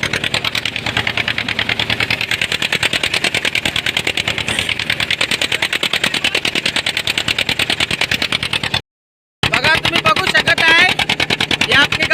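A fishing boat's engine chugs loudly and close in a rapid, regular knocking rhythm, briefly cutting out before resuming, with talk heard alongside.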